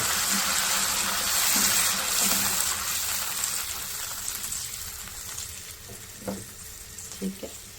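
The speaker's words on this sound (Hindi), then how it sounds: "इसके अंदर डालेंगे तकरीबन आधा गिलास पानी।" About half a glass of water is poured into a hot pan of butter chicken, setting off a loud gushing sizzle that gradually settles into quieter bubbling with a few soft clinks.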